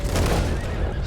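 A brief, loud horse whinny in a video game during a bandit attack, heard alone against dense, noisy game sound.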